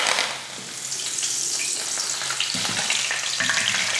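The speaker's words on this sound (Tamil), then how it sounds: "சில்லி பொரிச்சுக்கலாம்" Pieces of marinated chicken chilli fry in hot oil, giving a loud, continuous sizzle close by, with a few brief stirring clatters toward the end and no talking.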